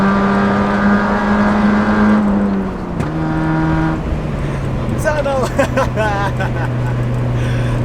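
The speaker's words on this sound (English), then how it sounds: "Tunnel with straight pipe exhaust in a Miata." A Mazda Miata with a straight-pipe exhaust drones and revs inside a tunnel, its loud engine note rising and falling and echoing off the walls, while people talk and laugh over it toward the end.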